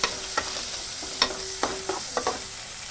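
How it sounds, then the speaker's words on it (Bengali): Chopped onion fries in a pan, a steady close sizzle with a faint hum beneath and about seven sharp spatula taps and scrapes spaced irregularly through it. "পেঁয়াজটা লাল লাল করে ভেজে নেব।"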